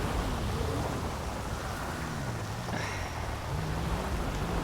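Rain pours steadily in Grand Theft Auto V, making a dense, constant hiss with faint low rumbling beneath it that could be thunder.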